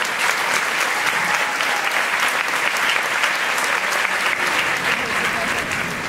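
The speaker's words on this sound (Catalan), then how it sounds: "un fort aplaudiment, per favor, per a elles" Audience applause at an end-of-year singing recital by voice students, a dense, steady wash of clapping that holds strong for the whole stretch with no letup.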